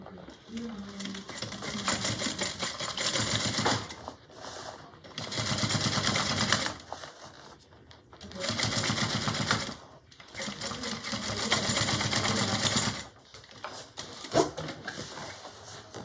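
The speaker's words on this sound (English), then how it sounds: "We're going to sew the binding on." Sewing machine stitching binding onto a small bowler bag in four bursts of rapid mechanical chatter separated by pauses, close by, with a person speaking softly between runs.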